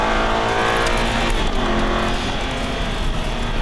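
Aston Martin V8 Vantage accelerating hard out of a corner on a race track, its engine roaring loud and continuous with a rising pitch and no pause.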